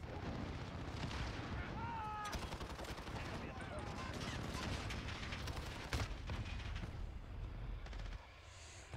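Sniper fire in Call of Duty cracks out in repeated sharp bursts over a dense, rumbling wash of battlefield gunfire and explosions, fairly faint overall, easing off near the end.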